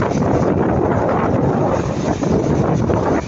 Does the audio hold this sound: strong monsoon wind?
yes